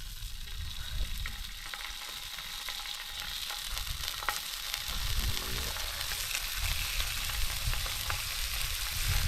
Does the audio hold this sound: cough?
no